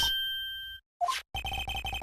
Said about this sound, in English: The phone that just rang wasn't mine.